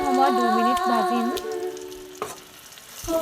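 Mustard oil frying in a wok for amla pickle gives a soft sizzle and occasional stirring clinks. Steady tonal sounds ring clearly over the frying in the first half.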